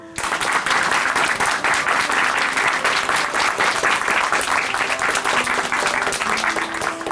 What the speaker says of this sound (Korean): 박수로 응원해 드리겠습니다